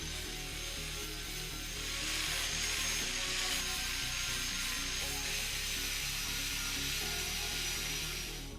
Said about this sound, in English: I'm going to remove any leftover spot welds and clean the surface.